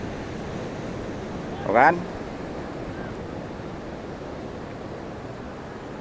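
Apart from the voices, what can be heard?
ocean waves on a beach in Sukabumi, West Java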